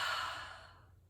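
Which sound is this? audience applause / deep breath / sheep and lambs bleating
deep breath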